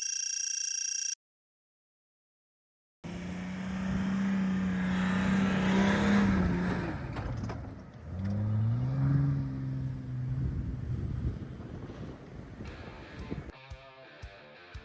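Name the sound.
off-road vehicle engine revving while stuck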